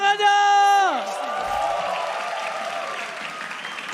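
A crowd at MPL Arena applauds and cheers during an AE vs EVOS Mobile Legends esports match; a loud sustained voice opens, then broad crowd noise settles to a steady roar.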